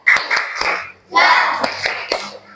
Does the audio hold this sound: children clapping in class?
yes